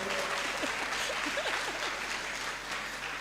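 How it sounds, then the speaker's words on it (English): A seated audience at a small-scale mining dialogue gives continuous, even applause, fairly faint and distant, with a few voices heard through it. "Please clap for me."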